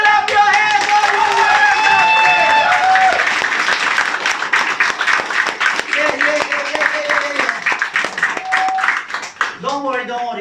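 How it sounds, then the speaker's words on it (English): A seminar audience at a leadership training claps rhythmically while voices chant and shout together, loud sustained crowd noise with sung-out tones over steady hand clapping that grows choppier near the end. "Shout hey ho! Hey ho! And clap your hands"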